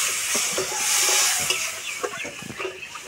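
Fish curry broth bubbles vigorously in a pan, giving a steady steamy hiss with scattered soft pops and bursts of bubbling, close and continuous.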